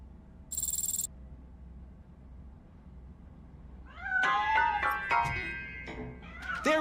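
A cat in the video game RoboCop: Rogue City meows several times in quick succession, sharp close yowls after a quiet stretch with a brief electronic chime earlier.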